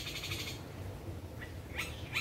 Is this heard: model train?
no